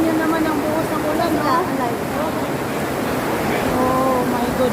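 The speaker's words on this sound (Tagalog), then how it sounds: "Tingnan nyo naman ang buhos ng ulan." Heavy rain pours at Universal Studios Singapore, a loud, constant broadband hiss of downpour with no letup, while voices murmur faintly beneath the roar.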